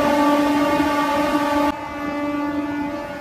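A Howrah to Puri local train runs with a steady, loud tonal drone and rumble. The pitch and level shift abruptly partway through, then settle into a slightly quieter continuous hum.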